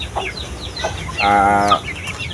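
A three-month-old Shamo gamefowl stag gives a brief clucking, crowing-like call, a rough sustained note of about half a second, close and fairly loud amid scattered farmyard clucks and bird chatter.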